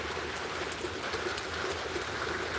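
Steady rain falls in North Georgia, a dense, even hiss of drops on surfaces with no voices, broken only by faint bird calls.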